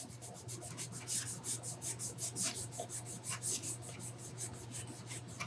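Steady hand rubbing while polishing old paint on a vintage Homelite XL-104 chainsaw, a quiet rhythmic back-and-forth rasp repeating evenly, close up with a faint low hum behind it.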